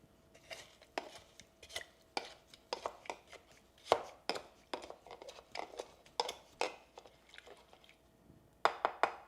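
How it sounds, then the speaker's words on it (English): Watermelon cubes being muddled in a copper mug for a Moscow Mule, heard as a series of sharp knocks and squishy thumps in an irregular rhythm, up close and with no talk. "add 3 watermelon cubes to your copper mug and muddle"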